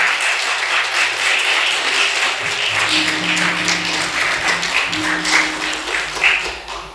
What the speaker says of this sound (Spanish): Ese aplauso para el Señor